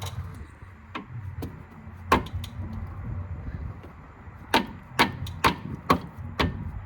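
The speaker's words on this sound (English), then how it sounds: "let me use a combination of the spanner and the hammer." A hammer strikes a spanner with sharp metallic knocks, loosening a track rod end on a Ford Focus Mk2, one at a time, irregularly spaced, then clustering into a quicker run near the end.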